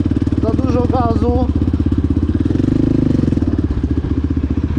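An MRF 80 dirt bike engine revs loudly and steadily up close, its rough pulsing drone rising and falling, with a brief voice shouting in Polish over it.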